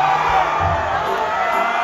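Drunk crowd at a Power Slap event, a loud dense roar of cheering, whoops and shouted heckles filling the arena, sustained without a break.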